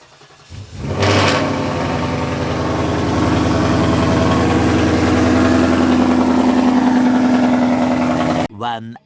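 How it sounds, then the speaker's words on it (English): A drag-racing car engine cold-starts and settles into a loud, steady idle close by, the rumble holding for several seconds before cutting off abruptly near the end. "I'm gonna give you a quick cold start before we get started."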